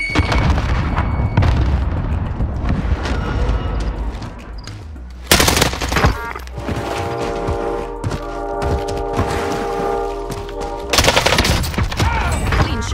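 Call of Duty online match with a thrown frag grenade: dense rapid gunfire bursts, a sharp loud blast, then ringing tones and more shooting and another heavy blast, all close and loud.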